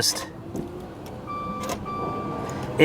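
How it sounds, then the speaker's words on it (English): A Maserati with a locked-up engine clicks sharply a few times as someone tries to start it, the isolated clicks standing out over a quiet background with faint voices nearby. "clicks hard, like it's trying to start, and then it doesn't"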